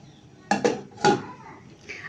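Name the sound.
covering the tea pot with a lid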